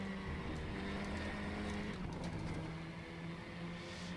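Engine of a KTM race car in RaceRoom at the Lausitz circuit, a steady loud drone with the turbo wastegate chattering and fluttering through the lift, continuous with no voice over it.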